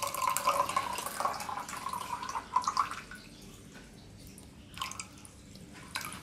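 Water trickling and dripping from a cast iron radiator as its valve is removed, a wet, splashy flow up close that thins out halfway through, leaving faint drips and handling noises.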